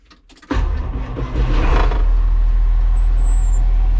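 A John Deere tractor engine cranks briefly, then catches and settles into a loud, steady diesel idle close by, with a rising rumble after start-up.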